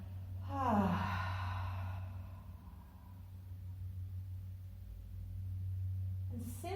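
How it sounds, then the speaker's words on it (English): A slow breath exhaled through the mouth during a calm yoga class, a soft close sighing rush that fades out over a few seconds above a low steady hum. "And exhale out the mouth."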